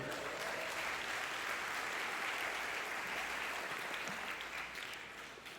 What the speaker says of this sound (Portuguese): Você pode dar um glória a Deus e aplaudir essa galera aí?